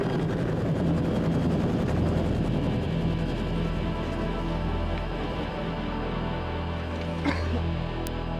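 A helicopter hovers directly overhead on a film set, its rotor and engine making a loud, constant, chopping drone that fills the whole stretch.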